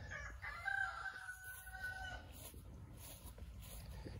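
Chickens on a backyard flock, hens with a rooster crowing once in a clear, drawn-out call over steady low clucking and farmyard murmur, fairly close.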